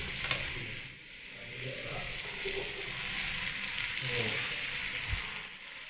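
Chicken pieces frying in a pan after being flipped, a soft continuous sizzle with occasional light scrapes and knocks, moderately quiet and close, no talking.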